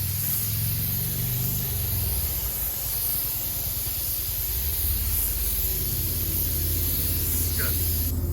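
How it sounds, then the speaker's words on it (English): A spray gun laying clear coat over a small hole repair on an RV, a steady close hiss of atomized spray with a low rumble beneath and faint voices in the background. "Anthony's gonna put a coat of clear on"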